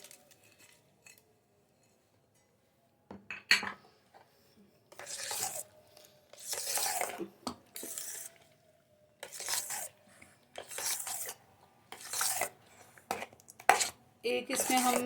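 A spoon stirs dates, almonds, pistachios and raisins into a creamy fruit custard, giving repeated short bursts of wet scraping and clinking against the bowl after a near-silent start.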